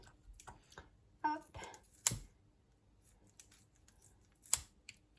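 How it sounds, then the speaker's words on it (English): A knife cuts steak on a plate at home, giving a few sparse, close clicks and sharp scrapes against the plate, spaced out with quiet between them. "I'm going to cut my steak up."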